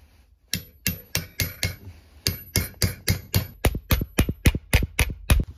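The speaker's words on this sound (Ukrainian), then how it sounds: "Почули металічний звук" Hammer blows drive a bearing into the reduction gear of an MTZ-80 tractor gearbox, about fifteen sharp metallic strikes in a steady rhythm, close and loud with nothing else in the background.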